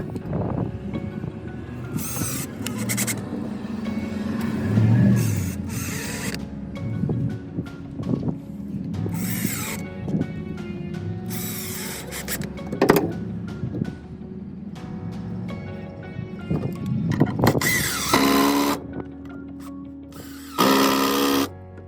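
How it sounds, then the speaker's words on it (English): A power driver fires screws to fasten the wooden corner pieces of a self-watering raised garden bed, with several loud whirring bursts separated by pauses and handling clatter, close up, with no talking. "we're going to fire 4 screws to fasten them together."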